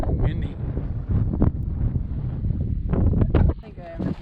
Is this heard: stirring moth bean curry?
no